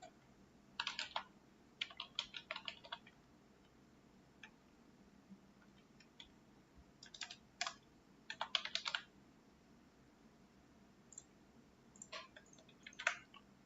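Bursts of quiet key clicks as code is typed on a computer keyboard, coming in short irregular clusters separated by pauses, soft and close over a faint steady room hum.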